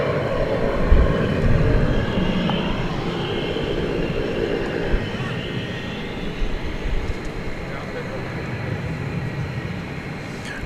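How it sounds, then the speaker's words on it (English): An American Airlines Airbus A321 jet at DFW airport at night gives off a steady, broad rumble of engine noise that holds at a fairly loud level throughout, with a low roar and some faint background sounds. "Another Airbus A321, American Airlines, going to"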